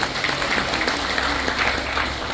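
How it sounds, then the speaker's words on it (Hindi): Audience applause fills a motivational business talk, steady dense clapping throughout with no speech over it. "तालियां बजा लीजिए अपने लिए।"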